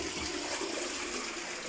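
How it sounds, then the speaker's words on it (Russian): A hotel room toilet in Sharjah flushes close by, a steady rushing gurgle of water that runs throughout without any talking. "Так, унитаз смывает, все, посмотри"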